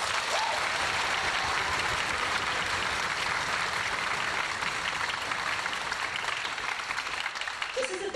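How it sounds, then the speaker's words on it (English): A large audience at a high school orchestra concert gives sustained, even applause for a soloist, a dense wash of clapping that holds steady throughout. "Let's give another round of applause for our soloist."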